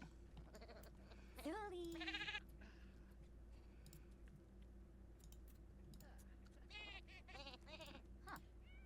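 A goat in The Sims 4 gives a couple of wavering bleats close up, one loud call near the start and another softer pair later, over steady game background music and a continuous low hum.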